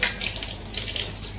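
Prawns being rinsed under running water, a steady, close hiss of flowing tap water with faint splashing throughout, no voices.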